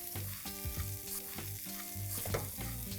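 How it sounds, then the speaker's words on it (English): Dalia (broken wheat) with carrots and peas roasts and is stirred in a pan over a medium flame, giving a steady close sizzle with soft stirring scrapes under tonal background music. "Let's stir this well and allow the dalia to now get roasted in this mixture for at least 30 seconds on medium"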